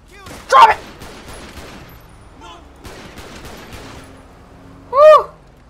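Gunfire erupting in GTA V with the LSPDFR police mod, two loud short bursts of shots several seconds apart, heard under and between tense spoken exclamations.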